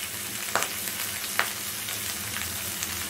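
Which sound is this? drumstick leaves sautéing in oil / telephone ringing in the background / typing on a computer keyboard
drumstick leaves sautéing in oil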